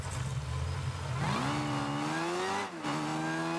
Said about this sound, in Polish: Zobaczmy sobie dźwięk silnika.